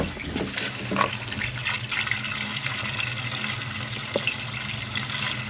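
Water runs steadily through the pipes and radiators of an old Hydrotherm boiler heating system in a house, a low continuous trickling flow with faint gurgles, fairly quiet and close.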